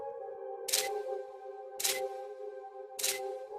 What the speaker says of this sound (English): Continuous shots are taken at a high shutter speed.